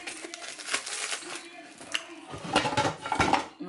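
Dishes clatter in a kitchen where liboke is being cooked, with a few sharp clinks and knocks of plates, loudest near the end, while a voice talks over part of it.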